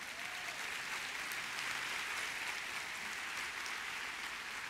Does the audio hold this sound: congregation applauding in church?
yes